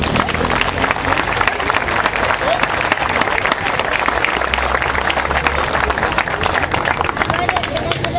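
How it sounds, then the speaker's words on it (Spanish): A large crowd at a Shinkyokushin karate exhibition at a flower fair in La Paz, Uruguay applauds steadily, loud and continuous throughout, a dense wash of clapping with no pauses. "Fuerte el aplauso."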